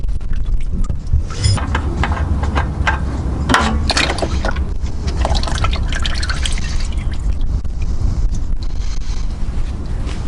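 Motor oil dripping and trickling from a car's drain plug into a drain pan during an oil change, a steady close patter of drips running continuously without talk.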